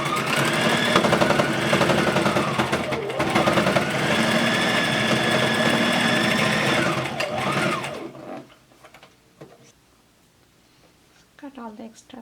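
A sewing machine back-stitches a cloth face mask with filter pockets, a loud fast whirring run lasting about eight seconds before it stops, followed by a quiet stretch with a brief voice at the end.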